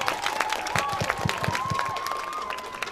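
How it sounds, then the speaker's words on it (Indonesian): Church congregation applauding during a welcoming ceremony for the Bishop of Sibolga at a newly founded St. Peter the Apostle parish: steady, dense hand clapping from many people, with a faint sustained tone running through it. "Mari kita berikan aplaus"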